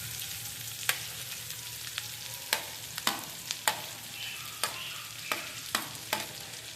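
Onions, capsicum and spices fry in a tempering in a pan, a soft steady sizzle broken by about a dozen sharp scrapes and clicks as a spoon stirs them, close and fairly quiet.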